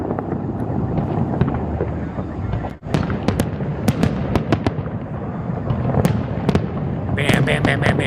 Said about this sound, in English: Bam, bam, bam, bam, bam, bam. Fireworks.